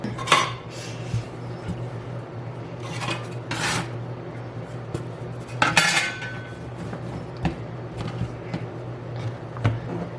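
A knife slicing through a log of biscotti dough on a cutting board, giving scraping and rasping strokes with a few clinks, set against a low steady kitchen hum.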